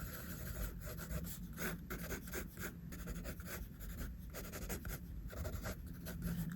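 Pencil drawing lines on paper for an eye sketch, a soft continuous scratchy rubbing with repeated stroke pulses, close and faint, with no voices.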